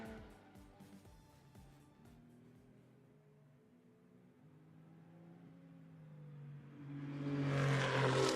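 An Audi GT2 race car runs during qualifying at Hockenheim. Its engine drones from a distance, dips, then swells louder and nearer into a rising, rasping roar near the end.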